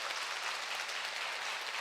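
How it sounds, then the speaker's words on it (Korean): A church congregation claps to welcome a newly arrived nun, a brief, even patter of applause, soft and somewhat distant. "우리 수녀님 그래도 박수로서 우리 맞이해야 되겠죠"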